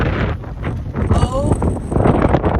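Strong gusting wind roars across a microphone on an open road during a long, windy bike ride, a loud steady rush through the whole stretch with voices partly buried beneath it.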